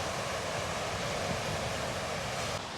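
Sea waves washing on a Swedish shore after rain and thunder, a soft, steady broadband wash, fairly faint and continuous with no voices.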